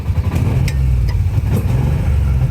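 A 1995 Kawasaki Mule KAF620A utility vehicle engine runs steadily with a low, throbbing mid-range rumble, loud and close throughout, with slight surges as throttle is applied.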